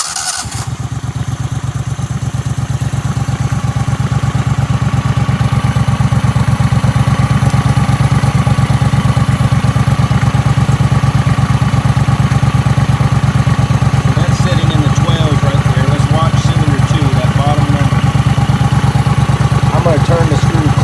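A mud motor boat engine with dual carburetors starts and settles into a loud, steady, rumbling idle with a fast regular pulse, close up.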